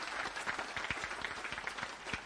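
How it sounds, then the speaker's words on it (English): Crowd applause at a national prayer day gathering at State House, Kenya: a dense, steady wash of many hands clapping with sharp individual claps standing out, continuous and fairly loud throughout. "We need another round of applause, please, for God."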